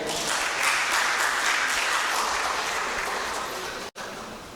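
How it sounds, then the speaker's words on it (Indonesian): Dense, sustained audience applause in a hall during an open senate ceremony inaugurating a professor at IAIN Tulungagung, steady many-handed clapping that slowly fades before cutting off abruptly near the end. "Kita beri aplaus yang meriah"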